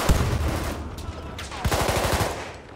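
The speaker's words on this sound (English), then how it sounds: "How did you survive all those bullets?" Battlefield 1 multiplayer on the Fort Vaux map: a loud, rapid burst of automatic submachine-gun fire cuts through a dense, noisy battle din, with individual shots packed tightly together near the end.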